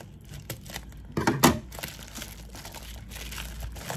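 Scissors cut open crinkling plastic packaging for fashion jewelry, rustling and tearing in a short burst of crisp cutting noises, then settling into quieter handling.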